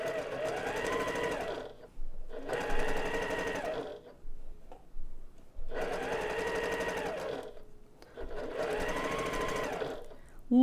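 Domestic sewing machine stitching a quarter circle quilt block, running in four bursts of steady whirring stitches of about two seconds each, separated by brief pauses, close and clear with no talking.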